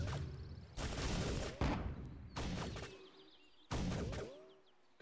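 Bursts of gunfire and explosive booms from the World War II strategy game Panzers: Phase One, four heavy salvos separated by short gaps with faint whistling debris and fading tails.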